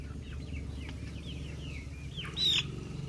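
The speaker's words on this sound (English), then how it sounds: "Dolly is a Plymouth Rock." Soft, close clucks and murmurs from a Plymouth Rock chicken over a low background hum, ending in a brief higher squawk.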